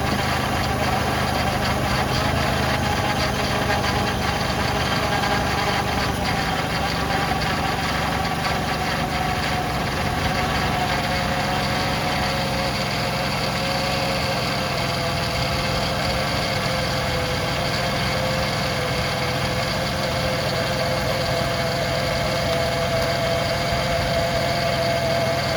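The engine of a Ford Freestar minivan idles steadily and loudly up close throughout while the wheels are turned, a constant droning hum with vibration and no talking, during a power steering pump change.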